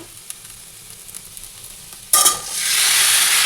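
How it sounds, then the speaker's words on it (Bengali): Cauliflower and potato frying in a little oil with cumin powder: quiet stirring at first, then a sudden loud hiss as the sizzle flares up and holds steady, close by and without talk. "একদম অল্প তেলে স্টিম কমিয়ে ফুলকপি আলু ভাজা করে নিচ্ছি"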